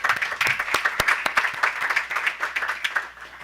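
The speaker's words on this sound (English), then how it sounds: "I won't ask you to save your applause to the end" An audience at an administrative meeting claps to welcome a new staff member, a short, dense burst of applause that tapers off toward the end.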